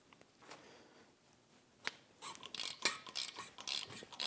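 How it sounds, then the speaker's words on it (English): Ratchet working on 9mm Allen bolts of a brake caliper on a 2009-2017 Volvo XC60, quiet isolated clicks at first, then a denser run of rapid metallic clicking and scraping, close but faint. "I'm using my ratchet for this."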